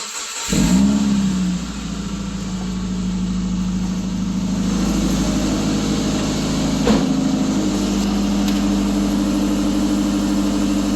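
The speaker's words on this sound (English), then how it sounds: "We're going to fire up ice cold start" A 2007 Subaru Impreza engine catches on a cold start with a short flare, then settles into a steady, loud, even idle that holds nearby, with no one talking.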